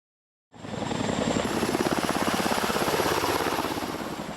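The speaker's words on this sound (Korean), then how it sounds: "육로 수송이 불가능한 작은 섬은 군 구조 헬기가," A military rescue helicopter flying to a small island, its rotor chop loud and close with a steady rapid beating throughout after a moment of silence at the start.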